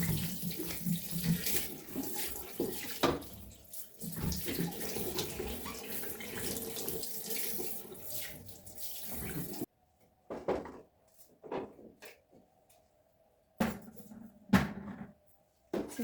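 Tap water runs steadily into a sink or tub during a bathroom rinse, a continuous close splashing rush that cuts off and then returns in short bursts.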